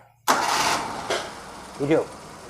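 An engine on a stalled vehicle with an electrical fault cranks and catches after its starter wires are bridged directly. It gives a loud, close burst, a second short surge, then a brief voice.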